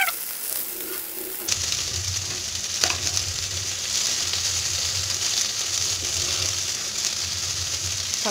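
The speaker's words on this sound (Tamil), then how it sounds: "இப்போ இது நல்லா கிளறிக்கலாம்." Spinach and tomato stirred in a clay pot with sesame oil, a steady close sizzle with scraping strokes of a spoon against the pot, quieter for the first second and a half, then louder and continuous, with no talking.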